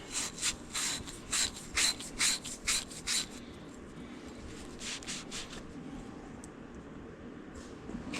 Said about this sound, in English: I am going to buff the rust that was on the threads off here.